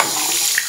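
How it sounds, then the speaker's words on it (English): A cold water tap runs over an iPhone 7 Plus Jet Black, a loud, steady splashing hiss of water close to the microphone throughout, with no talking. "So, time to open the cold water"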